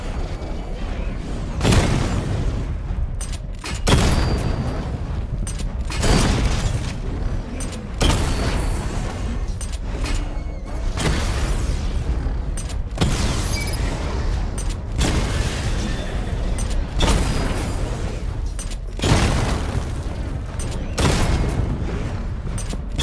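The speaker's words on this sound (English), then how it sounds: "Charge the missile barrage to level 2 to destroy up to 4 targets at once" Repeated heavy booms roll out in Batman: Arkham Knight as the Batmobile's missile barrage fires and explodes, roughly every two seconds, loud and dense with rumbling low-end between blasts.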